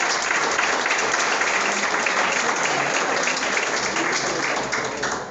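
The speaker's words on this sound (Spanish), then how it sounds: "Un aplauso al Señor por la vida de ellos." A church congregation breaks into sustained applause, dense and steady clapping that fills the room for several seconds before starting to fade at the end.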